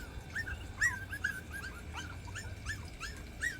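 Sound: dogs whining

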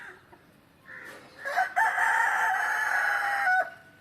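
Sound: black rooster crowing

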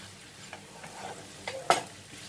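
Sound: stirring fried potatoes in sauce in a pan

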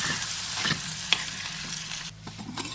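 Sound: mixing green gram into spinach curry in a pan

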